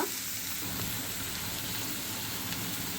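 Food frying in a pan for masala pulao gives a steady, close, dense sizzle that runs unbroken throughout, with no talking.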